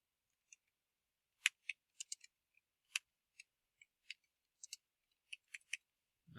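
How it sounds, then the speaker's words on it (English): Typing on a computer keyboard: sparse, quiet key clicks in an irregular rhythm, single taps and quick pairs spread over several seconds against near silence. "Think of it while I'm typing this in."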